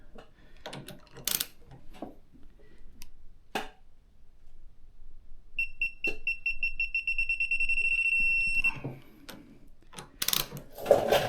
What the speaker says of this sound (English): So I have this digital one set at 50, so now I'll get the audible beep.